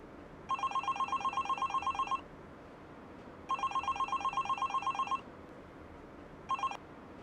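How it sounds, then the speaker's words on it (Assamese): Mobile phone ringing with a repeating electronic trill in three bursts, two long and one cut short, while the call is rejected again and again; fairly quiet, with no speech. "কিশোৰ দাই দেখোন ফোনটো বাৰে বাৰে কাটি কাটি দিছে"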